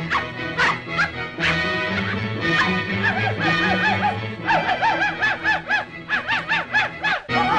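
A cartoon dog barks and yips in 12 Months, sharp repeated barks, then a run of rhythmic whimpering yelps, close and loud over faint background.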